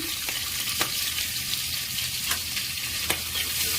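Chopped onion and green chillies frying in a pan for dal charu, a dense, steady sizzling hiss close up, punctuated by a few regular light clicks of a spoon.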